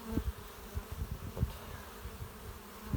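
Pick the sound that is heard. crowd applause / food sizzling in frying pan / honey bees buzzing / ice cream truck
honey bees buzzing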